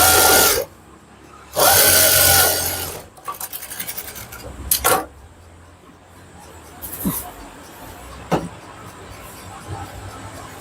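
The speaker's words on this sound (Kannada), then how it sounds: "ಮಾಡ್ಕೊಂಡು ಒಂದು ಸೈಡ್ ಸ್ಟಿಚ್ ಮಾಡ್ಕೊಳ್ಳಿ." A sewing machine stitches one side of a blouse in two short loud bursts near the start, followed by quieter handling clatter and a few scattered knocks.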